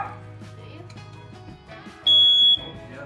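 A smoke alarm under test gives a loud, piercing high-pitched alarm tone that blares for about half a second after some background voices and handling noise.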